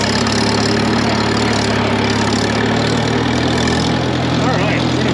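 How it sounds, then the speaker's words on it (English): A Case 800 LP tractor that had sat for over fifteen years idles steadily and loudly nearby, a constant low engine drone with an even mechanical chug throughout. "It is running so good. Gosh, that's a cool little tractor."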